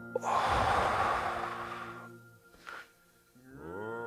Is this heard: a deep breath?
yes